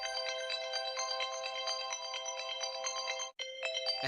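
A phone alarm rings with a bright, repeating electronic melody, loud and steady, briefly cutting out before resuming, with no talking.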